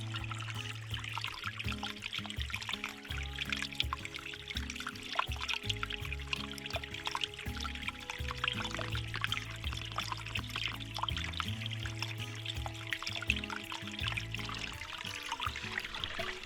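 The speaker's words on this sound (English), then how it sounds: "But now we got a nice little waterfall action going on here." A small stream of water pouring over gravel and shale as a trickling waterfall at a backyard dig: a continuous splashing, burbling flow, moderately close and fairly soft, with no voices.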